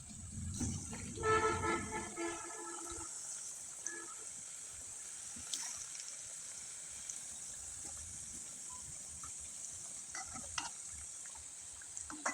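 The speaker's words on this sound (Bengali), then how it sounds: "এবার আপনাদের ভেজে দেখিয়ে দেব।" Thick palm fruit pitha cakes fry in hot oil with a steady, bright sizzle that runs throughout, opening with a brief louder burst of bubbling and clatter.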